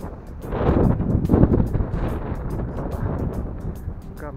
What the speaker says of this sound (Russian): Ветерок поднялся.